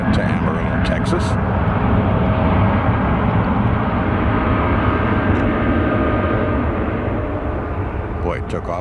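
A Boeing 747 heavy jet takes off at an airport, its engines giving a loud, steady broadband roar that holds throughout, with wind-like rumble and a person talking over it.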